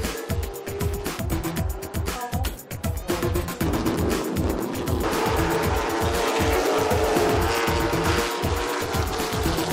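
NASCAR race cars at Hickory roar past in a dense, pulsing stream of engine noise, loud and close, blending into a continuous throaty drone with a hint of tire squeal.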